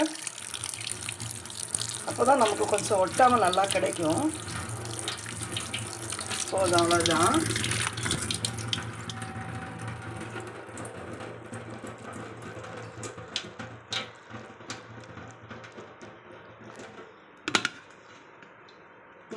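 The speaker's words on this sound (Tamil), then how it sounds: "நான் இதில் கொஞ்சம் பச்சை தண்ணி ஊற்றி நான் கொஞ்சம் அலசி எடுத்துக்கிறேன் இதை" Water poured over ingredients being rinsed in a home kitchen while making spicy mixture snack, a splashing, running-water wash near the start, then quieter handling with someone talking throughout.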